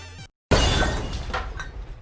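Glass shatters in the video game The Messenger, bursting loudly right after a brief moment of silence and then trailing off in a scattered, crunching decay.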